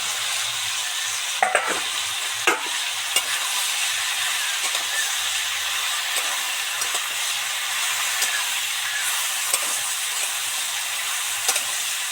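Snake gourd fries in a pan with potato and tomato under a loud, continuous hissing sizzle, punctuated by irregular spatula scrapes and knocks as it is stirred.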